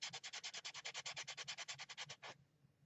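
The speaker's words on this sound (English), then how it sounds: "You can see I've just been real quick sanding and how it starts to clog the" Sandpaper scrubs rapidly back and forth over a baked polymer clay sculpture, about twenty quick even rasping strokes in a steady rhythm, close and fairly quiet, then stopping.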